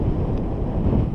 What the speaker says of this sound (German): Es pfeift ziemlich der Wind.